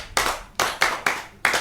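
A handful of people clapping in unison in short bursts, five crisp close-up rounds each with a quick attack and fading tail, with no voices.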